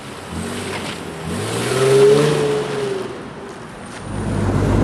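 An Infiniti G37 Sport convertible with an automatic transmission revs hard on a country road, the engine note climbing and swelling close to the mic, easing off, then building again.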